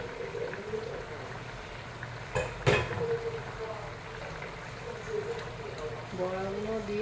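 Fish roe fritters drop into a pan of simmering potato curry with a brief splashy plop over a steady low bubbling, while a person talks quietly throughout.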